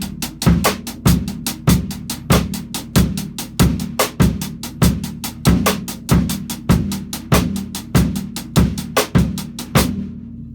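Bass drum single notes placed every third sixteenth over a 3-bar phrase, evenly spaced punchy thumps with a cymbal-like wash alongside, close and loud, ending in a short decay, no talk.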